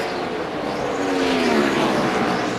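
NASCAR stock cars roar around the track in a 2004 race, a continuous loud engine drone with one car's pitch rising and sweeping past.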